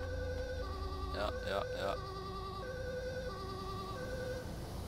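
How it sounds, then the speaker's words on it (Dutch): An ambulance siren wails steadily in GTA 5 with an EMS mod, a sustained tonal two-note pattern held throughout, fairly faint under a brief voice speaking over it. "Ambulance rijdt weg zonder onze patiënt."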